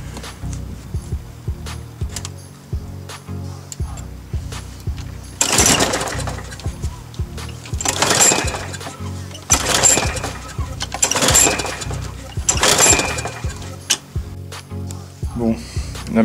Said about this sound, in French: la machine n'a pas démarré, elle a juste toussé une fois